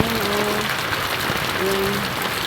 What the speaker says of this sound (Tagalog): grabe ang lakas ng ulan dito sa amin